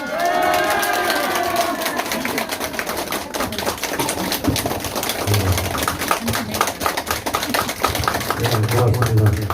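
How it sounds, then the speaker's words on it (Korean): Audience applause fills a campaign office opening ceremony, a dense wash of clapping from a crowd that runs steadily throughout at a fairly loud level, with murmuring voices and a low hum underneath. "여러분 감사의 박수 한번 보내주시기 바랍니다."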